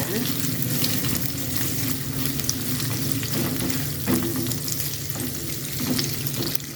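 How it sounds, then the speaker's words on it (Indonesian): Steady crackling sizzle of anchovies frying in hot oil, continuous and fairly loud, with occasional stirring clatter. "Kita goreng terinya juga."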